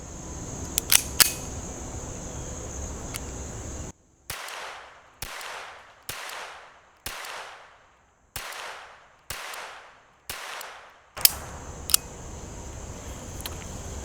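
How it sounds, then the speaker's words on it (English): Beretta Bobcat 21a pistol fired as a run of about eight evenly spaced, sharp shots, each a loud crack with a short decaying tail, preceded and followed by faint handling clicks. "So let's take some shots, see what it sounds like."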